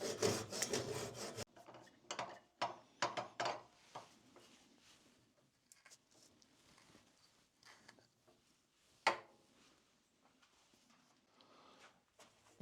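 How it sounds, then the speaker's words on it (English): A Japanese hand saw cuts a piece of wood off a turning project on a lathe, making a handful of quick rasping strokes up close, followed by quieter scraping and a single sharp knock. "I've got one of these Japanese saws. Just easily just hack this right off there."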